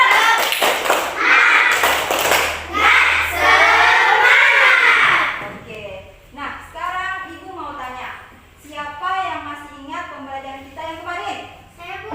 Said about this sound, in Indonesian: Mana tepuk semangatnya? Tepuk semangat.